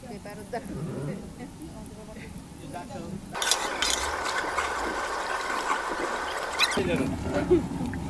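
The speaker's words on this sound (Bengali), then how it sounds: "কিশমিশ আলু বখরা আর পোলাওয়ের চাল সুন্দরভাবে নেড়ে মিশিয়ে নিতে হবে" Rice, raisins and dried plums for a large beef biryani are stirred in a big pot over high heat. Soft scraping and wet shuffling come first, then a louder, denser hiss and clatter, with a voice talking over it.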